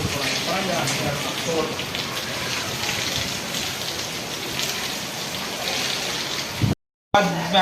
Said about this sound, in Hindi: अगर बारिश का रुख इधर से हो तो फिर हमारे कमरे तक बारिश आती है।